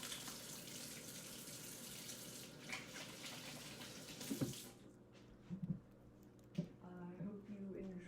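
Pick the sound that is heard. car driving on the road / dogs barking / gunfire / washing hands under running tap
washing hands under running tap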